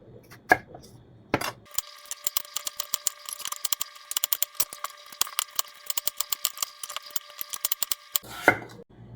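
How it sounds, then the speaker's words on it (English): Two large potatoes being cut into bite-size pieces with a knife, giving a steady run of crisp, closely spaced chops on a board, loud and near, with a few heavier thumps at the start and end. "2 large size potatoes. Cut them into bite size."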